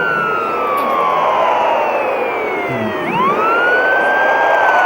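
Police car siren in the Justice Rivals 3 cops and robbers video game, a loud wailing tone that sweeps down, dips and rises again over engine rumble, with no talk.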